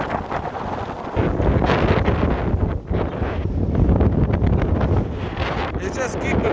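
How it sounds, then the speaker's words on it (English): Strong, gusty wind buffets a microphone outdoors as a storm approaches, a steady broadband roar with surges throughout, with a voice talking faintly underneath. "that wind is getting nasty"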